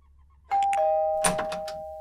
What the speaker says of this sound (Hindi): अरे बजाना घंटी